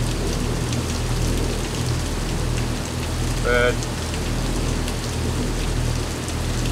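Heavy rain pounds a sailboat at anchor during a hurricane-season storm in the Bahamas, a loud, dense, continuous roar. A brief tonal beep sounds midway and one word is spoken.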